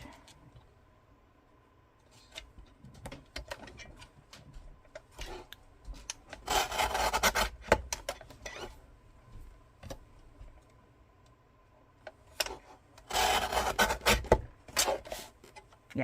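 A paper trimmer slices cardstock in quiet bursts, a faint scratchy rasping glide repeated a few times with small ticks and clicks between strokes, close and soft.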